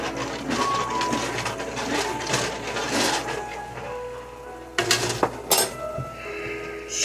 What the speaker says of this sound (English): Easy stir.